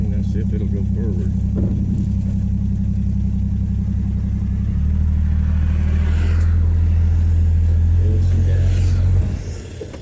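The engine of a 1962 Rambler Classic idles loudly and close, then its pitch shifts as the car is put in gear to creep forward. The engine then cuts out near the end, and a person talks over it.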